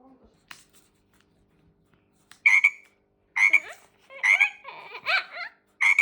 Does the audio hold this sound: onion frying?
no